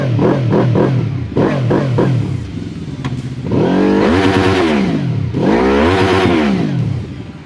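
A QJ Motor SRV 600 V motorcycle engine blips a few quick revs, then roars up and down in two long, loud revving surges, close by.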